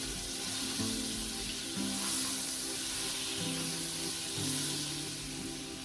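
Butter sizzles and fries steadily in hot oil in a pan for a chicken and chorizo risotto, a continuous close crackling hiss with no talk.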